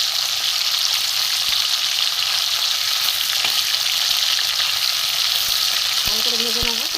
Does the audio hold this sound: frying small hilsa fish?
yes